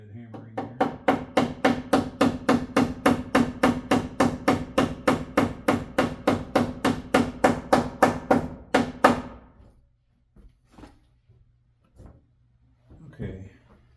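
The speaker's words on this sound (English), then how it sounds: "Backhanded hammering there." Backhanded hammer blows strike in a fast, even run of about thirty sharp hits while a bathroom circuit is being finished, then stop, leaving a few faint taps and handling noises.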